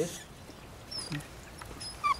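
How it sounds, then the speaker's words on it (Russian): A female dog whimpers in a few soft, high, brief whines, fairly close but quiet against a calm indoor background, with a slightly louder whine near the end. "Das ist meine Hündin."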